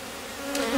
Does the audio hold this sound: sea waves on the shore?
no